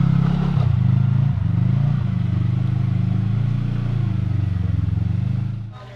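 A Can-Am side-by-side UTV engine drones steadily, close and loud, as it crawls over rough, holey off-road trail, with a low rumble and rattling clatter throughout before easing off at the end.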